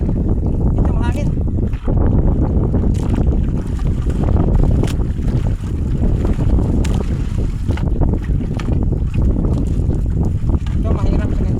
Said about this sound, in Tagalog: ito mahangin.